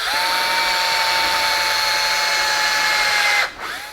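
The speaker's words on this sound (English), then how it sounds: "I'm just going to drill an 1/8 inch pilot hole" A power drill whines steadily at high speed for several seconds while drilling a 1/8 inch pilot hole in wood, then winds down abruptly as it stops.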